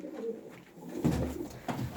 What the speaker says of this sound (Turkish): Köyden kuş getirdik bilginiz olsun.